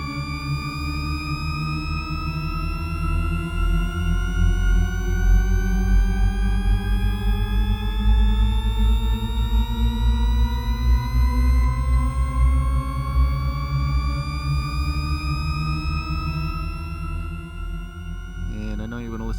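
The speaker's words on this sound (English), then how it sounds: "as it loops back, it continues to rise, and that's the key behind a Shepard tone" A Shepard tone rises continuously and seemingly without end, a loud layered synth glide that fills the whole clip.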